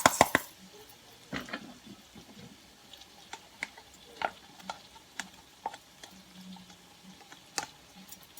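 Scattered stirring clicks and scrapes of a utensil in a pan of frying sausages, with a faint sizzle underneath; irregular taps spread across the clip, no talking.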